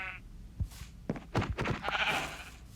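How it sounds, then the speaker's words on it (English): Sheep bleating in Minecraft: a few short wavering bleats spaced across the clip, clear and close, with no talk. "I see over here a sheep"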